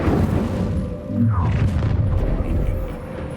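Incendio fire spell cast in Hogwarts Legacy, a deep whooshing blast that swells around the one-second mark and rumbles on under a dense game soundtrack.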